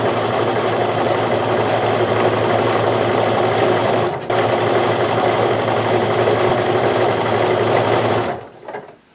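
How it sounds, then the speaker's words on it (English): A sewing machine runs loud and close, stitching the seams of a sweater pillow in a steady hum, with a brief hitch midway, then winds down and stops near the end. "I've now stitched down both seams to overlock that"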